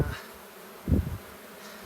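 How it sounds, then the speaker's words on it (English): Bees buzz steadily around a hive, a dense droning hum with a louder burst near the middle as insects pass close by. "lots of bees"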